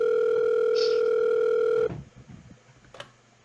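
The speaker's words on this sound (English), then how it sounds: "Phone call from manager." A steady telephone dial tone hums loud and unbroken for nearly two seconds, then cuts off abruptly, leaving faint line noise and a brief click near the end.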